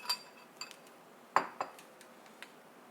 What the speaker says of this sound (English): take a slotted spoon and remove the fat layer into a bowl for disposal